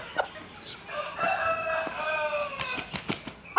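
A rooster crows once in a long, drawn-out call, near and clear, with a few soft clucks and small bumps around it.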